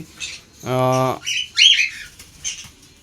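Pet birds kept indoors at home call out in a sustained harmonic squawk followed by a sharper shrill chirp, with fainter calls after, loud and close with no talking.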